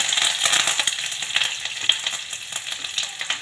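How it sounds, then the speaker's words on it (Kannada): Mustard seeds sizzle in hot oil with a bright, crackling hiss, dense with rapid little pops and spits, close and fairly loud with no voices. "ಕಾದ್ಮೇಲೆ ಸ್ವಲ್ಪ ಸಾಸಿವೆ ಹಾಕ್ಕೊತಾ ಇದ್ದೀನಿ"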